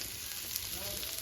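Food frying in a pan during a home lunch of non-veg dishes, a steady, faint sizzle throughout a brief moment.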